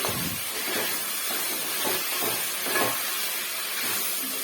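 Vegetables frying in a pan for vegetable pulao, a steady close sizzling hiss that holds evenly throughout with no talking.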